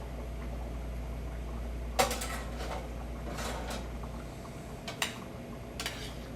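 Mozzarella and cheddar being stirred together in a pot for mac and cheese, with a few quiet metallic clinks and scrapes of a utensil against the pot over faint kitchen background.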